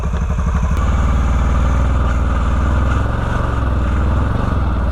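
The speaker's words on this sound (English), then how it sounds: "The clutch is so loud." A 2013 Can-Am Maverick UTV runs close by, its clutch giving off a loud, steady mechanical clatter over the continuous engine drone, with no talking.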